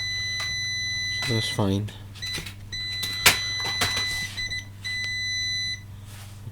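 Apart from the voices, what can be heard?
multimeter beeping while probing MacBook Pro A1278 coil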